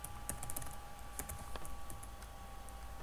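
Typing code on a computer keyboard: a steady run of quick, close key clicks with irregular rhythm over a faint constant hum, with no voices.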